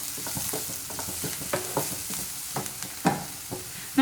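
Egg fried rice with ground black pepper being stirred in a pan, a series of close scraping and tossing strokes over a soft continuous sizzle.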